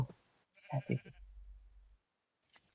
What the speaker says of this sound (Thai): เนี่ยฮะมีแกะอีก